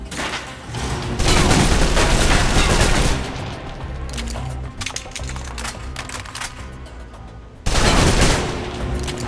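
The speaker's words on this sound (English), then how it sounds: "Now for your submachine guns." Submachine gun fire in the PC espionage shooter Alpha Protocol, loud rapid bursts of close automatic shots with a clattering, rattling texture, a long sustained volley followed by a pause and another heavy burst.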